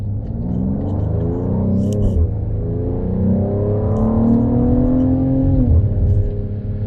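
A 2025 Mercedes-AMG GLE 53 accelerates hard on paddle shifters, the engine note climbing steadily through the gears with a brief dip at each upshift, loud and close from inside the cabin.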